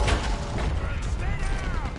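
A Gatling gun firing in Red Dead Redemption 2: a dense, rapid mechanical clatter of gunfire with metallic ratcheting over roughly two seconds, alongside game voices.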